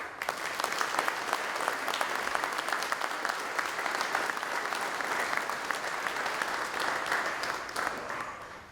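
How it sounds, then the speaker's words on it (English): A large crowd at a firefighter recruit swearing-in ceremony applauds steadily and loudly, a dense sustained wash of clapping with no talk over it. "So I'd like to thank you and give yourselves a round of applause."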